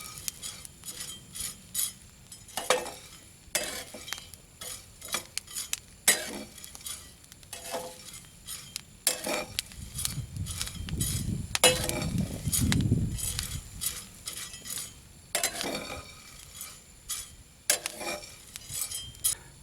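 Coffee beans roasting in a pan are stirred with a metal utensil, giving repeated scraping clinks and rattles over a low sizzle, close and steady, with no voices.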